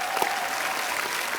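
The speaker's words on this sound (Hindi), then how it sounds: "इसके लिए भी जोरदार तालियां।" A studio audience at a televised comedy show applauds, a continuous, even wash of many hands clapping at moderate distance throughout the short stretch.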